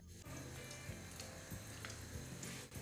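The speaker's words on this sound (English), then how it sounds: "In a pan, we add a drizzle of oil. A small clove of crushed garlic, and let the garlic brown slightly." Crushed garlic browns in a drizzle of oil in a pan, giving a very faint, steady sizzle with soft pops and occasional light clicks, with no voices.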